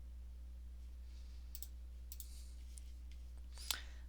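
A computer mouse gives four or five faint, sharp clicks, scattered irregularly over a quiet room with a steady low electrical hum underneath.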